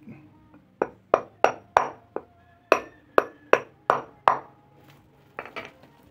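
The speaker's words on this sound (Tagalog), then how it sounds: "Ang diskarte natin dito, martilyo ulit." A hammer taps a bearing into place on a scooter torque drive assembly in quick, sharp taps: a burst of four, a pause, then five more ringing blows, fairly close and loud.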